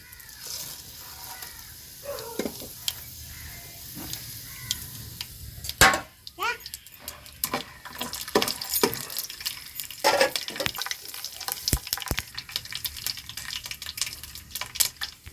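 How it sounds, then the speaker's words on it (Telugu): Peanuts, chana dal, cumin and mustard seeds sizzle in hot oil, a moderate frying hiss broken by popping crackles and utensil clinks, close up, with faint background voices. "ఇంక ఇప్పుడైతే మాత్రానికి బుడ్డలు శనగబ్యాళ్ళు అయితే వేసుకుందామండి. దీంతో పాటు జీలకర్ర ఆవాలు వేసుకుందాం."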